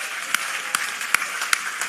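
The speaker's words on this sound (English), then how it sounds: "Give her a round of applause." An audience at an adult continuing education commencement applauds, a light, even patter of clapping with a few louder claps standing out over the short stretch.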